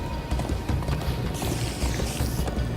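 A horse in the Minecraft Story Mode video game gallops in a fast, steady clip-clop of hooves, loud and close, over a dense game soundscape.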